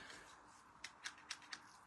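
Scissors snipping around the edge of a card cover for a Christmas card album, four quick, crisp cuts close by and fairly quiet against a soft background hiss.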